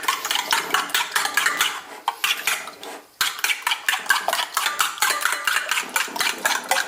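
Eggs whisked briskly in a bowl for an omelette, fast rhythmic clinking of a utensil against the bowl's sides, close and steady with one brief pause.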